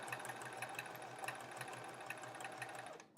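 A sewing machine stitches a quilt block in a fast, even rhythmic whir that stops abruptly near the end, with no talking over it.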